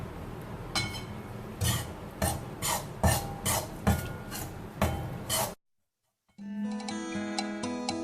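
Ghee and oil, melted together, being stirred into besan flour for Mysore pak: a series of rhythmic scraping and clinking strokes of a utensil against the pot, followed by a brief silence and then a steadier metallic ringing.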